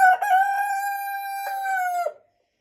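A single Marans chicken call, a drawn-out crowing cry heard up close, rising and holding before breaking off into silence.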